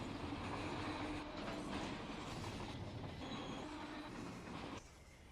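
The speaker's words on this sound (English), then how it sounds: "Heard some brakes dragging there." Rumbling train noise in a railroad simulator game, with metallic squeal and dragging hiss from brakes dragging on the wheels, fairly loud and steady, then dropping off abruptly near the end.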